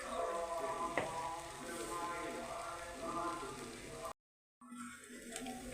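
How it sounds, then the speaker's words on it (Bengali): Water from rinsing a bowl of mung dal poured into a hot pan, giving a steady hiss and crackle of frying at close range, cut by a brief dropout of silence, with a voice speaking over it. "এবার আমি এগুলো ধুয়ে জলগুলো দেবো।"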